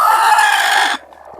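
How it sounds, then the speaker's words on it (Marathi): Native desi hen (gavran kombdi) vocalizing close by on a poultry farm, a loud sustained clucking call that cuts off abruptly, leaving quiet. "ही खूड कोंबडी आहे मित्रांनो"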